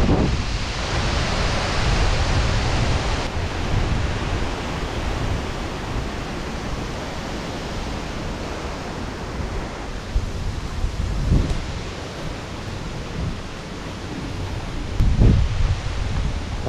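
Strong wind rushes continuously through leafy farm trees, a loud, broad roar with gusts swelling and easing and rustling foliage, no voices.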